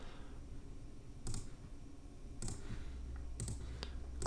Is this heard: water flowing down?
no